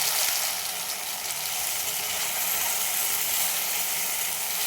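A paste of raisins, tomato, whole cumin, ginger and green chili hits hot oil in a pan while cooking banana flower, giving a steady, close, even sizzle throughout with no voices.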